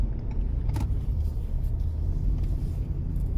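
Inside a car driving along the road back through the small business district of Camp Verde, Arizona, a steady low engine and road rumble continues throughout, joined by a few faint rattles.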